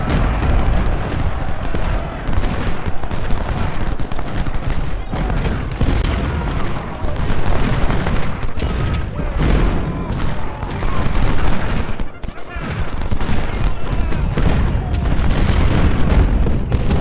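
Dense, continuous rumble of massed gunfire and booming artillery in a Civil War strategy video game battle at Shiloh, loud and layered with overlapping shots and blasts, no clear pauses.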